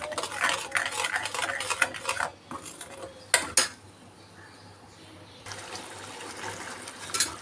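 Chole masala roasts in oil in a pan while a spoon scrapes and stirs in loud bursts, with a quieter gap midway before the frying hiss and stirring resume.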